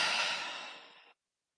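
A single long exhale during a yoga breathing exercise, a loud, breathy sigh close up that fades steadily over about a second and then stops into silence.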